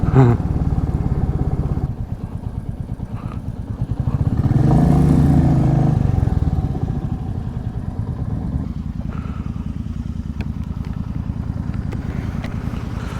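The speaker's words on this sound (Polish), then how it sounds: "Na wolnych obrotach takie stukanie." A Royal Enfield motorcycle engine runs steadily at idle, with a low, even knocking pulse throughout and a brief swell in the middle.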